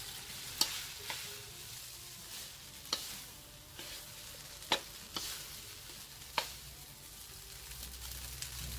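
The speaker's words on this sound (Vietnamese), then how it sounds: "mình dùng đũa mình đảo cho nó đều, cho cái phần bún này nó đều với cái phần nước" Rice vermicelli noodles stir-fried in a pan with chopsticks: a steady soft sizzle broken by sharp clacks and scrapes against the pan at irregular intervals, heard close up with no voices.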